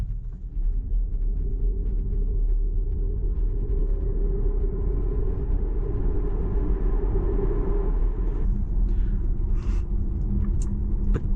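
A Volkswagen ID3 electric car accelerates from inside the cabin, a continuous low road rumble and tyre roar over about eleven seconds, with a faint motor whine rising in pitch until it eases near the end.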